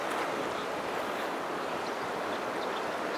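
The river Lågen in Gudbrandsdalen, Norway, rushes with a steady, broad roar of flowing water, constant and fairly distant with no voices.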